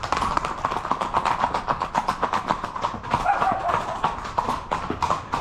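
Horse hooves clip-clop steadily during a group trail ride, the dense, even rhythm of several close, loud footfalls running through the whole stretch, with faint voices in the background.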